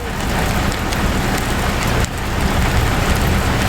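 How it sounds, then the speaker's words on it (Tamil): Moderate rain falls steadily around Coonoor in a summer downpour, a loud dense hiss near the microphone with a brief dip partway through, then continuing unbroken with no voices. "குன்னூர் மற்றும் அதன் சுற்றுவட்டார பகுதியில் மிதமான மழை பெய்தது"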